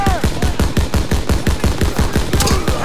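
Rapid automatic gunfire in the World War II shooter game Call of Duty WWII, a steady stream of loud, evenly spaced shots close by, with a few heavier blasts near the end.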